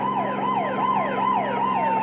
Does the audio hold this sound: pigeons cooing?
no